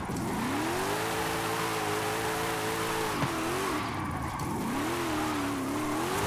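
Car engine in Forza Horizon 5 revving hard through gears, a continuous loud rising whine that drops at shifts around the middle, then climbs again.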